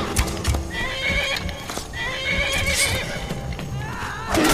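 A horse in the video game Skyrim neighs loudly and repeatedly, its whinnies rising over a busy background of clip-clopping hooves and clatter.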